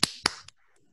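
Two sharp, hollow slaps of a stiffened half-cupped hand patting the crown of the head, a quarter second apart, followed by a fainter third tap, close and dry with no talk.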